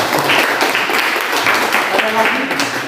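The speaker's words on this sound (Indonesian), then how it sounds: "tepuk tangan untuk Jos." Children in a classroom clap briefly for a classmate, a dense burst of applause mixed with voices and classroom chatter.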